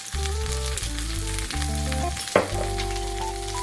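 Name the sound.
onions frying in tempering oil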